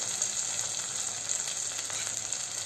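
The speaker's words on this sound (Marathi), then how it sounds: "आणि ती या तुपामध्ये हलवून घेऊया" Chopped green chillies and corn fry in ghee while being stirred, giving a soft, steady sizzle with faint scraping, fairly quiet and without talk.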